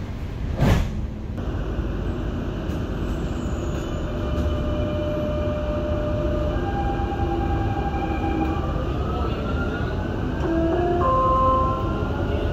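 A Dubai Metro Green Line train runs with a steady, loud rumble while rising whining tones build as it gathers speed, after a sharp clack near the start.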